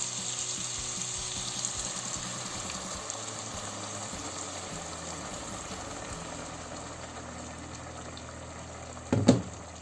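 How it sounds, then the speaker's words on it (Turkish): Hot water poured steadily over leeks and washed rice in a pot, a continuous rushing, bubbling wash close by that swells briefly near the end. "Ve şimdi üzerine çıkasıya kadar da sıcak su alıyorum."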